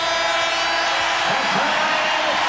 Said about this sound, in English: the crowd here at Market Square Arena loves it